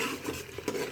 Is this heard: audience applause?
no